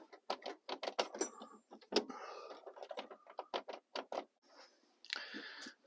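A set of car keys jangles and clicks close by in quick irregular bursts during work on an old Ford Galaxie wagon, with a brighter metallic rattle near the end and no talking.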